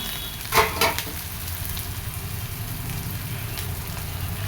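Onion and torn green chili fry in a hot wok before water spinach goes in, a steady close sizzle with a couple of brief louder bursts of crackling early on.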